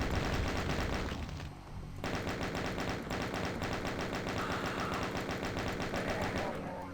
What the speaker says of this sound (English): we're gonna have to chain gun some archviles